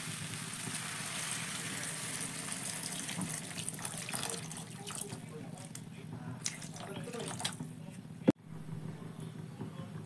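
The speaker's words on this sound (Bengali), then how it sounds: "এবার দিয়ে দেব পরিমাণ মতো জল।" Water is poured into a pan of ghugni, a pea curry, as a steady close stream with a talking voice over it and a sharp click near the end.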